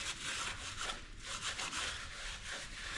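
Faint, steady back-and-forth rubbing as a Chevy K10 engine mating surface is wiped clean with degreaser, strokes running continuously with no talking.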